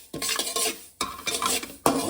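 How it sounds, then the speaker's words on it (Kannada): Poppy seeds are stirred as they dry-roast in a pan over a low flame, heard as three bursts of close, rough scraping and rattling with short gaps between them. "2 ಸ್ಪೂನಷ್ಟು ಗಸಗಸೆ ಲೋ ಫ್ಲೇಮಲ್ಲೇ ನಿಧಾನಕ್ಕೆ ಫ್ರೈ ಮಾಡ್ಕೊಳ್ಳಿ"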